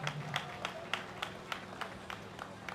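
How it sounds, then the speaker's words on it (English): An audience claps at the groundbreaking ceremony for an inland dry port city in Nigeria, a thin, evenly spaced patter of hands heard faintly from a distance over a steady hum from the public address system. "Please feel free to clap."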